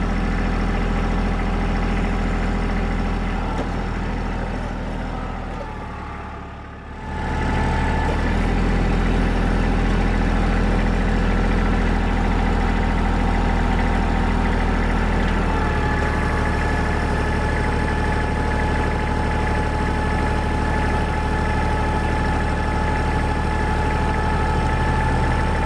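An Eastonmade MS324 log splitter's engine idles loudly and steadily nearby, with a brief dip in level partway through before settling back into a constant mechanical drone, no talk.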